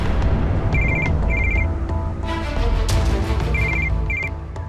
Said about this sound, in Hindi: उसी का फोन होगा।